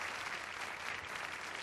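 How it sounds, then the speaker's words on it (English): Audience applause for contestants at a group singing competition, a steady dense wash of clapping that holds evenly throughout, fairly distant and alone without voices. "give a big rousing round of applause for all of our hardworking contestants"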